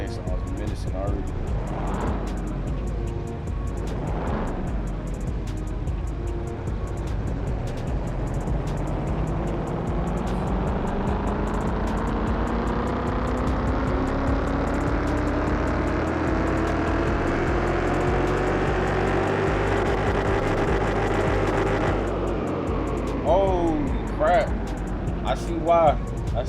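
An Audi RS7 engine in Car Mechanic Simulator revs up steadily on a dyno, its tone rising over about twenty seconds to a sustained roar before cutting off, with someone talking throughout.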